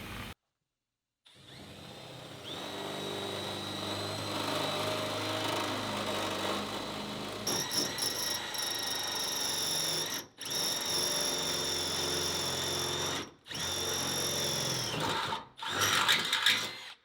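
A power drill with a carbide-tipped bit bores through metal plate while an A-frame is fitted in a Ford Transit high-roof extended van. The high whine runs steadily, then stops and restarts in several shorter bursts.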